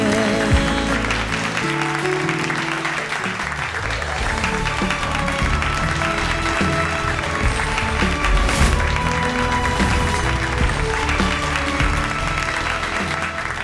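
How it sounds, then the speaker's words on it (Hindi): Dense, steady applause fills the hall at an inter-school dance competition in Varanasi, a large audience clapping continuously and loudly with music still playing underneath. "दर्शकों की तालियों की गूंज से साफ पता चलता है"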